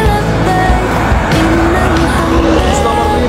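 Bus number 4, carrying Hajj pilgrims, drives past close by with a loud, rough engine roar and road noise, as a voice speaks over it.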